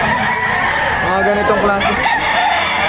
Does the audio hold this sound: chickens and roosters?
yes